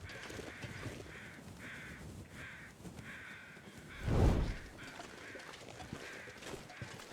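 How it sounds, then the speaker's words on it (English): Several crows caw from a distance in short repeated bursts, faint against an outdoor hush, with one louder rustling thump in the middle. "the sounds of the birds are getting further away"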